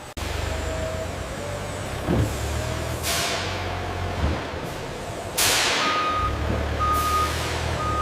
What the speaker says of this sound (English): The truck pulls away, heading out onto the open road.